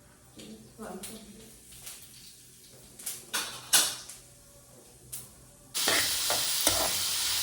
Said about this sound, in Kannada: ಸಾಸಿವೆ ಜೀರಿಗೆ ಹಾಕೊಂಡು ಈರುಳ್ಳಿ ಒಂದೆರಡು ಹತ್ತು ಮೆಣಸಿಗೆ ಹಾಕೊಂಡಿದ್ದೀನಿ